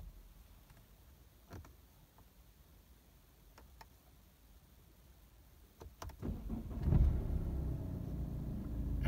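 BMW 118d with an N47 diesel engine and Steptronic transmission starts up: a quiet cabin with a few faint clicks, then the starter cranks and the engine catches near the end, settling into a close, steady idle.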